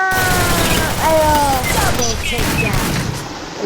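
Gunfire bursts and a booming blast from a grenade in the mobile battle-royale game Free Fire, with rapid shots filling the moment and excited players' voices overlapping the game sounds.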